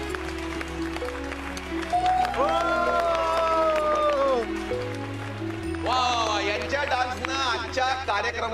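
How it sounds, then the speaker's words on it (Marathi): A TV show audience claps and cheers for a dancer, steady applause running under a host speaking and music throughout. "यांच्याकरता आता एकदा जोरदार टाळ्या होऊन जाऊ देत"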